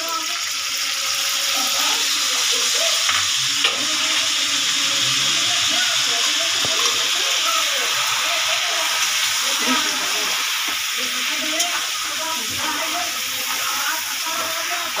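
Chicken korma spice paste sizzles and hisses steadily in a hot pan while being stirred, a continuous close frying sound with faint scraping throughout.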